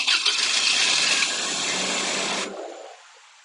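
A 2001 Toyota Tacoma 2.7L engine with a fault that makes it stall while driving cranks and catches with a loud, dense whirring roar for about two and a half seconds, then tapers off and fades.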